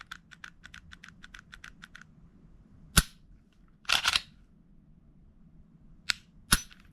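A Glock fitted with an aftermarket performance trigger being dry-fired up close: a quick string of light mechanical ticks, then several sharp, isolated clicks and snaps spaced across the stretch as the trigger breaks and resets, with near silence between.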